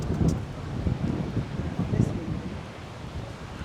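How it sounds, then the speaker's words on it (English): Strong onshore wind at Paguera, Mallorca buffets the microphone in gusty rumbling bursts while surf churns beneath, loud and close, fading slightly toward the end. "Really is blowing, and it's blowing straight on shore, so the waves are only going to get bigger"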